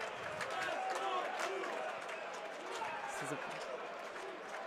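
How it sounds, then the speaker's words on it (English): An arena crowd at an NCAA Sweet 16 basketball game between Michigan and Alabama makes a steady roar with scattered clapping and chanting, while a commentator talks over it. "You can hear the Let's Go Blue chants"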